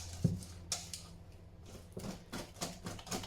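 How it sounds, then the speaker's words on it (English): Wire whisk beating lemon raspberry loaf cake batter in a bowl, with quick light clicks and taps scattered across a few seconds, fairly close and moderately quiet, with no one talking. "The whisk is helping to get some of them out."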